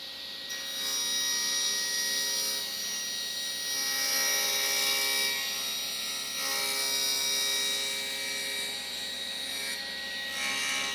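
Wood being ripped on a saw against a parallel rip fence, a loud continuous whining cut with a steady motor hum lasting throughout, no talking.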